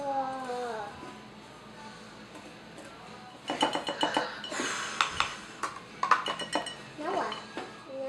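Bath bomb ingredients get stirred in a bowl, starting quietly and then breaking into a run of clinking, scraping utensil-on-bowl strokes in irregular bursts, with speech heard along the way.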